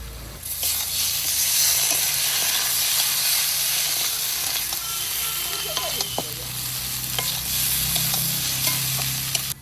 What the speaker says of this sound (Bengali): কচুটা সুন্দর করে ভেজে নিয়েছি, এখন আমি দিয়ে দেবো এখানে আদা আর হচ্ছে কি গোটা জিরে বাটা আর একটু লঙ্কা বাটা